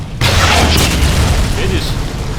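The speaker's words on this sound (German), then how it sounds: "Da ist auch mal ein schweres Geschütz." A heavy gun booms in Wolfenstein (2009), a loud, sustained low rumble that starts abruptly and fills the whole moment, with a voice talking over it.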